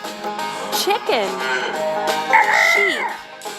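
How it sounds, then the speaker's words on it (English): A cartoon farm chicken crows and clucks in a children's animal game, with rising and falling calls repeated over a continuous music bed, close and clear. "chicken,"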